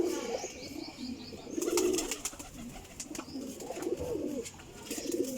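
Pigeons coo in several short, low, warbling bursts, close and moderately loud, with faint chirps and rustling between them.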